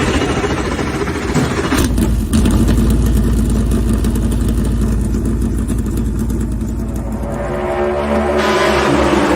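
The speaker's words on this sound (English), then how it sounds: "gentlemen, start your engine!" Race car engines fire up and settle into a loud, steady roar of idling and revving at a New Hampshire race, with a sharp change around two seconds as more engines join, filling the scene continuously.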